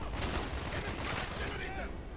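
Dense, continuous gunfire from Call of Duty Black Ops, rapid overlapping shots and bursts filling the whole stretch at steady loudness, with shouted voices mixed in.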